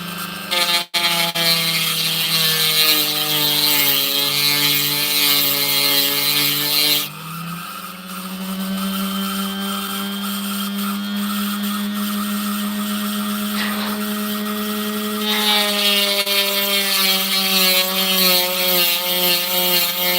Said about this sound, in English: grind that down